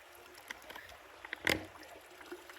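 Water is drawn from a stream while bikepacking in Utah's San Rafael Swell: a soft trickle and small splashes, with one brief, louder slosh midway.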